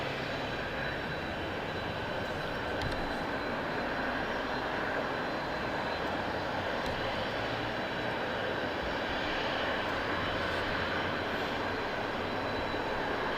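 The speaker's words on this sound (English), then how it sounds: "So also got a little Piper coming in as well." A small Piper aircraft coming in at Southend Airport, its engine a steady, continuous drone that holds at an even level throughout, heard from a distance with no talk.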